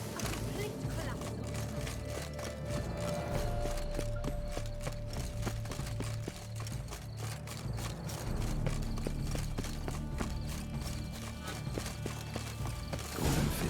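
Horse hooves galloping at a steady, fast rhythm in The Witcher 3 Blood and Wine, loud and continuous with game ambience and a voice talking over it.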